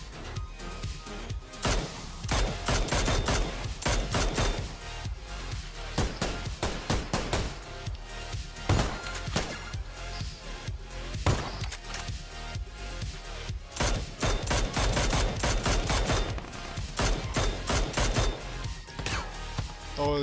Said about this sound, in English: they're shooting at the fucking skiff